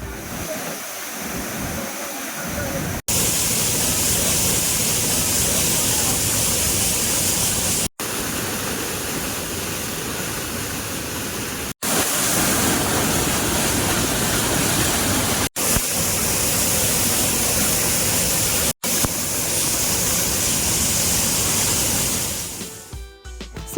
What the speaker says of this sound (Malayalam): സുരക്ഷിതമായി നീന്തിക്കുളിച്ചു പോകാനുള്ള അപൂർവം ചില വെള്ളച്ചാട്ടങ്ങളിൽ ഒന്നാണിത്.